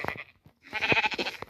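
A few sheep bleat in short, wavering cries, fairly close and moderately loud, with a brief pause between calls and no speech.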